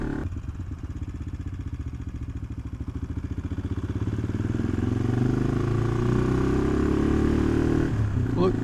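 Motorcycle engine pulling steadily on a long uphill ride toward a summit on an Italian trail, loud and continuous with a low droning note that rises in strength partway through as the bike climbs.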